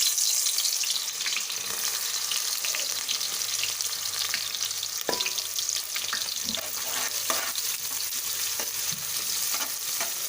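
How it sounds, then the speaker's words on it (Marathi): Onions frying in hot oil, a steady crackling sizzle that runs throughout, with a few soft clinks and stirring sounds on top. "आता फोडणी काय पहिलं काय टाकणार आहे कांदा टाकून घेणार"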